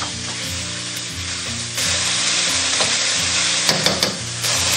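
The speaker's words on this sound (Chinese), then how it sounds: "接着我们就可以下入肉丝，" Shredded pork hits oil in a smoking-hot iron wok and is stir-fried. A loud, steady sizzle fills the clip alongside rhythmic scraping and stirring strokes, close up with no voices.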